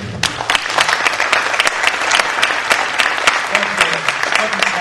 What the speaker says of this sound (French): Merci, s'il vous plaît, applaudissez-les.